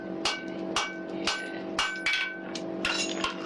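Hammer blows ring on an old anvil in a craft workshop, a series of sharp metallic strikes at irregular intervals over a steady low hum.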